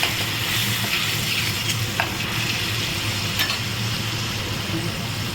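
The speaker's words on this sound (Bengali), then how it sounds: "এবারে আমি এতে এই যে বাটা মশলাটা দিয়ে দিচ্ছি, টমেটো, পেঁয়াজ, আদা, রসুন যে বাটাটা রেখেছিলাম।" A paste of tomato, onion, ginger and garlic sizzles and spatters in a hot pan while being stirred, a steady dense frying hiss heard up close without speech.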